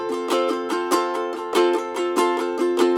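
A ukulele strummed steadily in quick groups of three, bright and close, with accented beats marking a rolling rhythm.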